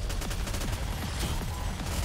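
Rapid, continuous gunfire in the shooter Goddess of Victory: Nikke, a dense stream of shots with no pauses, loud and close throughout, with no talk over it.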